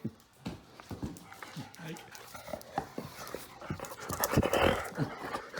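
A Great Dane panting rapidly nearby, quick rhythmic breaths with some snuffling, getting heavier toward the end.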